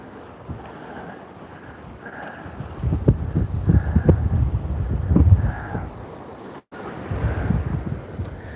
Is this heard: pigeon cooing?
no